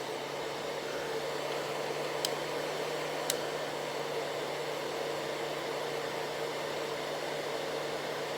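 A hair dryer blows steadily on drying lash product, a constant close whooshing airflow with a low hum, uninterrupted throughout with two faint brief clicks.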